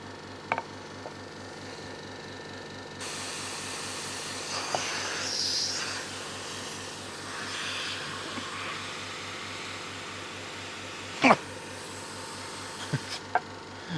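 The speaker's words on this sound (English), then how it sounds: "You maybe hear the sound from my compressor." A small, cheap Vivo silent-type air compressor runs steadily with a low, even hum and a broad hiss that swells partway through, broken by a couple of sharp knocks.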